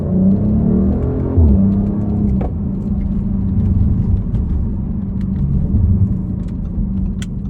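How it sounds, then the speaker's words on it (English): A 2019 Audi RS5 2.9 V6 TFSI Quattro Sportback rolls over a freshly surfaced gravel road, giving a steady, close rumble of tyres and road noise with a low engine drone throughout. "That's just some gravel."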